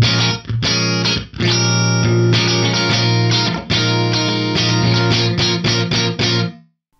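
Electric guitar with a distorted tone, played through a medium room reverb with early reflections that add light ambience, heard alone as strummed chords and sustained notes that ring out and fade at the end.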